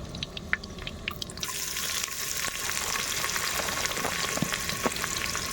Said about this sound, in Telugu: ఉల్లిపాయలు వేసుకొని కొద్దిగా బాగా కలియబెట్టుకుందాము